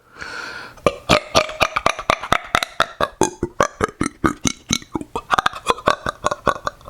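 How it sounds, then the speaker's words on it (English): A long run of rapid, loud burps from one person, about two dozen sharp bursts in quick succession, close up with no talking. "I want to show you how many times I can burp in a row"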